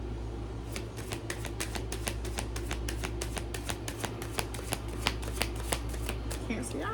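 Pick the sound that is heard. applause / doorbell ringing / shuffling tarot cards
shuffling tarot cards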